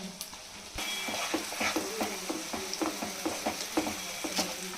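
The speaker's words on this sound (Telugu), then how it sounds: "ఇప్పుడు టమాటాలు కూడా వేసుకుంటాము. హై ఫ్లేమ్లోనే కొంచెం మంచిగా ఫ్రై చేసుకోవాలి" Tomatoes frying on a high flame for home-made pav bhaji, a steady sizzle with faint stirring clicks and scrapes repeating through the pan, fairly quiet and close with no talk.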